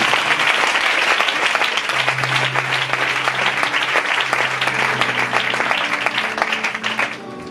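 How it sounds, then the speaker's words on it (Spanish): Loud, sustained applause from a large congregation at a church service, steady for several seconds before fading out at the end, with a low instrumental tone underneath. "Ese fuerte aplauso a la palabra del Señor."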